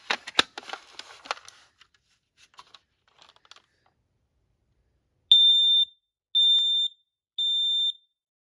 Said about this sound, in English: PI9010 dual sensor photoelectric. This thing's pretty cool, and I'll be testing it.